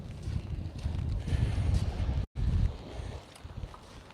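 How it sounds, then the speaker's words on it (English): Wind gusts buffet the microphone on a rainy beach at sunset, a rough, rumbling roar that rises and falls, cutting out for a moment before returning. "Wind is picking up."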